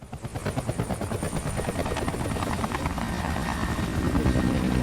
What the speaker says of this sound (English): a helicopter comes to pick us up